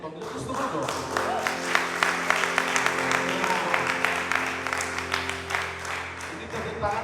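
Church congregation applauding during a Sunday worship service, a sustained wash of many hands clapping over held musical tones, with scattered voices mixed in throughout.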